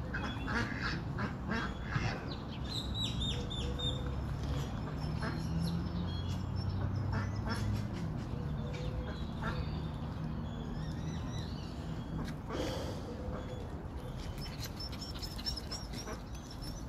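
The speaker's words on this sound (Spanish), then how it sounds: "Mira, aquí también hay patos." Ducks quack now and then at a pond in the grounds of the Santa María de la Paz temple in Tlaquepaque, Jalisco, under steady outdoor ambience with other birds calling.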